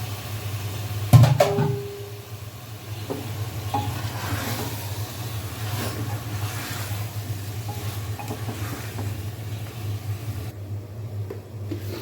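Beef with chili powder and turmeric simmering and frying in a pot for bhuna khichuri, a low, continuous sizzle with an abrupt clank near the start and faint scraping stirs, with no talk.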